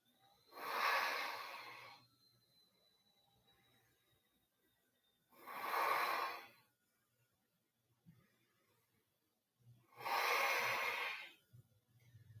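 Slow, deep breathing during a vinyasa yoga session: three long, audible breaths spaced several seconds apart, close and airy, with quiet pauses between.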